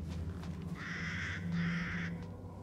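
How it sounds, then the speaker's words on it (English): Crow cawing in the video game Resident Evil Village, two drawn-out harsh caws in quick succession over a low ambient drone, moderately close and clear. "Okay, that was a bird."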